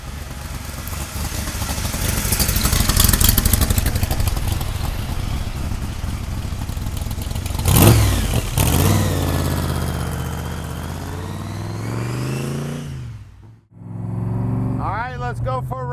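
A 1965 Backdraft Cobra replica with a Roush engine runs loud and close, a steady rumbling drone with a brief rev swell midway, then a sharp drop and a restart near the end, with someone talking over it.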